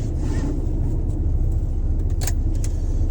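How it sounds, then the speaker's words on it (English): A truck engine idles in the cab with a heavy, steady low rumble as throttle is applied to build air pressure, joined near the end by a few light metallic jingles. "give it some throttle to build up our pressure"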